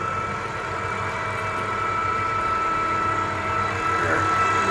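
An OOYA RE-1225H radial arm drilling machine runs with its brake unlocked, giving a steady, even machine hum and whir that holds level throughout, with no speech.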